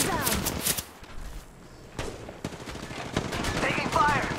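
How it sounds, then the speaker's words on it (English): Gunfire in Apex Legends, sharp automatic bursts and single shots in uneven clusters, loud and close, with a voice speaking over parts of the exchange. "Taking fire."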